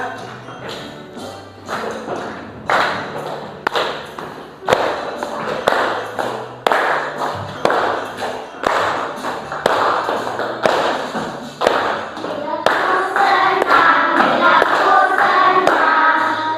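Children clap their hands in a steady rhythm while singing an Islamic song together in a classroom, with sharp, evenly spaced claps under the group voices and a brief music swell near the end.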